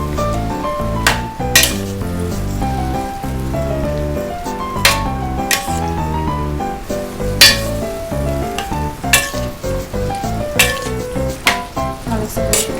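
Vegetables for chop suey stir-fried in a pan, with repeated sharp metal clanks of a utensil striking the pan over a soft sizzle; a music bed plays underneath.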